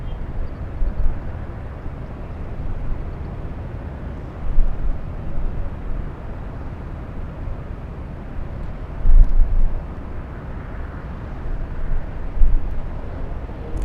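A Polish airliner bound for Warsaw rolls down a runway at LAX, heard as a heavy, continuous low roar of jet engines at a distance, swelling a few times.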